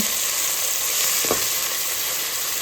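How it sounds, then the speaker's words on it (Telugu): Onions, green chillies and tomatoes frying in oil for a fish curry, a loud continuous sizzle heard up close with one brief scrape of a spatula partway through. "ఇలా మంచిగా ఫ్రై చేసుకోండి"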